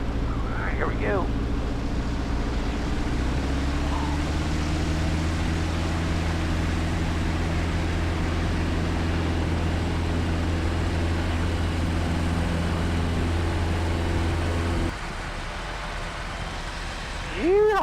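Yellow Piper Super Cub taking off from runway 04, a steady loud engine drone with propeller hum filling the cabin and wind noise, then a sudden drop in level near the end, with a brief voice at the very end.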